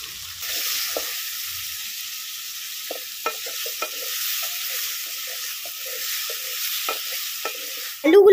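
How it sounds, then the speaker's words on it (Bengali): Potato pieces frying with salt and turmeric in hot oil tempered with cumin seeds, a continuous bright sizzle with scattered scraping and tapping clicks as the spatula stirs them. "আলুগুলোকে নুন হলুদ দিয়ে খুব ভালো করে এখন ভাজা করে নেব।"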